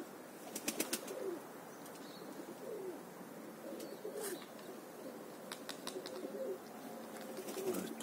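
Pigeons, young birds at a morning training flight, coming in to land: repeated bursts of wing flapping and clattering arrive close by, with soft cooing and chirps in between, while the birds keep settling over several seconds.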